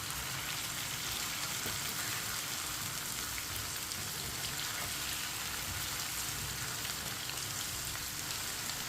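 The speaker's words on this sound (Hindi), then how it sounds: "अब इसे 2 मिनट के लिए फ्राई होने देते हैं।" Okra (bhindi) frying in a pan with besan, a steady dense crackling sizzle that stays even and close throughout, with no speech.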